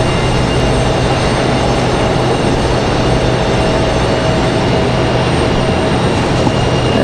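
A PSA Airlines American Eagle CRJ regional jet taxis at Raleigh-Durham International Airport, giving a steady, dense engine roar with a low hum that holds constant throughout, no voices present.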